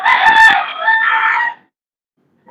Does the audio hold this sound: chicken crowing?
yes